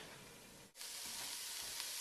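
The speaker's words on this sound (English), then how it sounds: "Now I'm going to give my onions a stir." Onions sizzling in a pan for tomato sauce, a soft steady hiss briefly interrupted by a stir, then resuming evenly and quietly.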